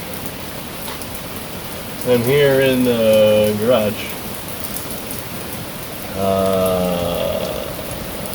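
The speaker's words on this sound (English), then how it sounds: "Well, it's raining." Rain patters steadily in the background while someone speaks briefly twice over it.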